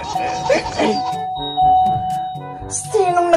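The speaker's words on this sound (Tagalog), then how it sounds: "Sinong nagpipindot ng doorbell?" A doorbell rings inside a home, a few chiming electronic tones under overlapping voices talking.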